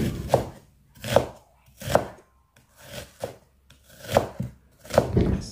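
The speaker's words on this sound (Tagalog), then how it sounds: "Ito yung sibuyas. Nahiwa na natin ng maliliit." A knife chops white onion into small pieces on a board, seven distinct close, evenly spaced thuds with quiet gaps between them.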